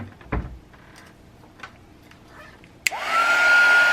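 A hair dryer switches on with a sudden click and then blows at a steady, loud roar while drying a craft photo mat page, after a few faint handling taps.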